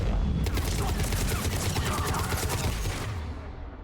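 In the video game Mass Effect 3 Legendary Edition, combo detonations and gunfire make a dense, loud stretch of rapid overlapping shots and blasts that fades out at the end.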